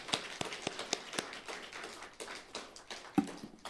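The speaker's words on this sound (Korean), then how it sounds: "우리 한번 하나님께 영광의 박수 한번 올려드리겠습니다" A church congregation at a New Year's Eve service applauding, heard as faint, distant, sparse claps tapering off in a quiet hall.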